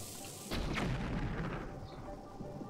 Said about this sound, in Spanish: Si disparo una flecha bomba, a ver si encuentro algo por casualidad.